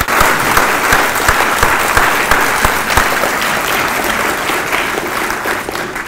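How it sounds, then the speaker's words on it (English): Loud, sustained applause from the audience at a school board candidate debate in Palo Alto, a dense, even roar of many hands clapping throughout with no talking. "I want us to begin with a great big round of applause for all five people who chose to run for the Palo Alto School"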